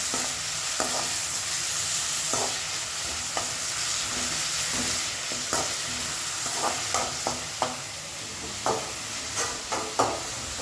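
Onions and curry leaves sizzle steadily in a hot pan under a constant hiss, with a spoon scraping and stirring in sharp, repeated clicks toward the end.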